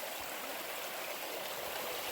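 Steady broadband rush of creek water flowing at a stream crossing in Red River Gorge, Kentucky, in winter, continuous and fairly close with no voices.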